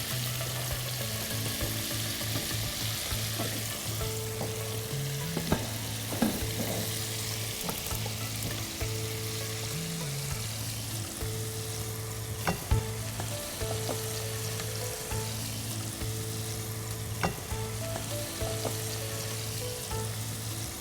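Crispy chicken wings sizzle and fry steadily in a hot pan while being stirred, with occasional scraping knocks over a constant crackle and a loud, close hum throughout.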